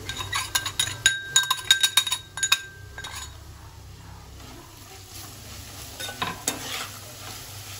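Bitter gourd fry stirred in a pan with a metal spoon, giving a rapid run of clinks and scrapes over a low sizzle, then quieter frying with occasional taps and no talking.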